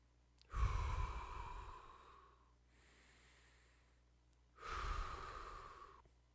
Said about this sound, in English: Now watch as I breathe, preparing to sing